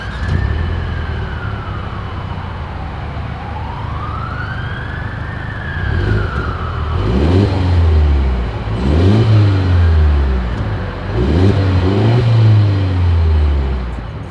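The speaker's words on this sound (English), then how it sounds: "As always, here is that exhaust clip." Exhaust of a 2023 Mercedes-Benz GLE 350 luxury midsize SUV, loud and close, with several rising and falling revs that swell and drop in a repeating pattern.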